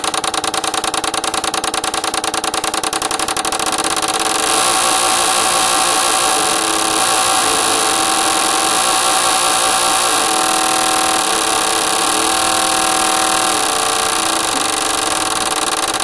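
Ford Escort engine running steadily during fuel injector cleaning, a continuous even hum with a rapid ticking pulse at the start and a bright whirring machine whine over it.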